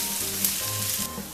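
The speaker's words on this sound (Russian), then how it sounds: "Помешивая лук, доводим его до золотистого цвета." Onion and carrot frying in a pan for a smoked-rib pea soup, a steady close sizzle with soft stirring scrapes throughout.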